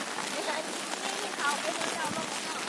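Rain falls in a steady broadband hiss outdoors in a rural setting, continuous and fairly close, with faint scattered patters and no clear speech.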